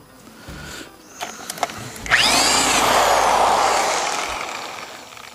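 A 1965 Evinrude 3hp outboard spun by a separate electric motor, a few clicks and knocks, then a loud whirring spin-up that rises and holds steady before slowly easing off, close by.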